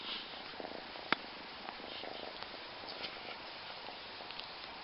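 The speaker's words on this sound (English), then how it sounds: "Can you hear this cat purr?" A cat purrs softly and steadily close by, a continuous low rumble with one brief sharp tap partway through.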